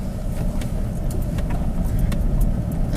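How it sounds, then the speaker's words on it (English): A 4x4 truck in low range and first gear creeps downhill on a rough track near the Tulameen River, its engine a steady close low rumble under constant cab rattle and light jangling clinks, with no voices. "put your 4x4 into low, 4 low, and then put your drive, your gear shifter into first gear, and it'll just crawl down"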